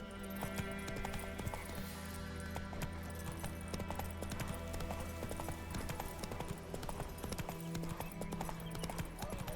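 A horse galloping in The Witcher 3 video game, rapid rhythmic hoofbeats clattering close and steady throughout, with game music underneath and no talk.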